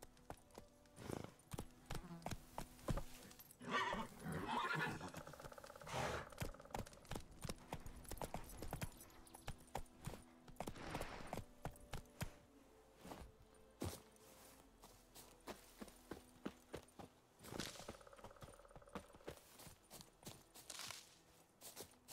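Hooves clop rhythmically as a horse trots and gallops across ground in The Witcher 3, with a brief whinny partway through. The footfalls are close and steady, alongside occasional quiet game sounds.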